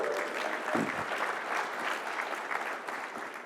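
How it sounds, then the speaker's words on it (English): A keynote audience at a fintech conference claps in a broad, continuous wash of applause for several seconds, with a brief whoop near the start. "Yeah, I see some clapping up here."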